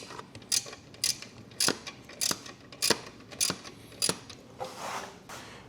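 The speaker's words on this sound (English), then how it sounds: "see if we can do it with the ratchet now, just to make life a little easier on ourselves." A ratchet wrench loosening the passenger peg bolts on a Norden 901 motorcycle, about eight sharp metallic clicking strokes at a steady rhythm, close and fairly quiet, ending in a softer scraping rustle.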